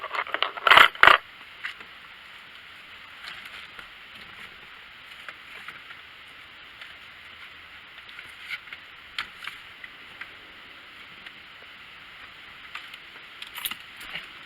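A ring of keys jangles loudly up close in a short metallic burst inside a 2019 Ford F350 cab, followed by faint scattered clinks and rustles in a quiet interior.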